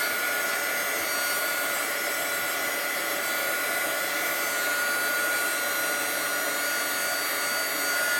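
A heat embossing tool blows steadily as it melts a glycerin embossing base on paper craft work, a constant whirring, airy blower hiss that stays close and even for the whole stretch with no voices over it.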